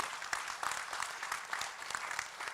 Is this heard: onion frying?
no